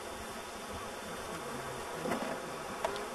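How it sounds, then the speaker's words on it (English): A swarm of aggressive killer bees buzzes around an opened hive, a dense, continuous close-up drone of many wings with no voices. "Contrast these bees with defensive, aggressive bees called killer bees."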